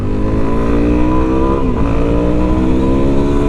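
Suzuki DR-Z4SM supermoto single-cylinder engine revving high and held near the rev limiter, a loud, steady, close buzzing drone with dense harmonics, no speech.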